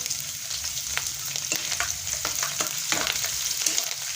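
Green chillies frying in oil for a beetroot pickle, a steady close crackling sizzle with scattered sharper pops and occasional stirring scrapes throughout.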